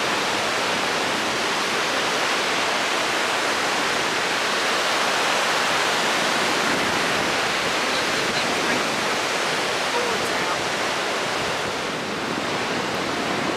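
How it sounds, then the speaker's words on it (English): Strong wind gusting over surf on a beach by a pier under reconstruction after Hurricane Ian, a dense, steady roar of waves and wind buffeting that stays loud and close throughout with no talk. "That wind has got the surf whipping up pretty good today."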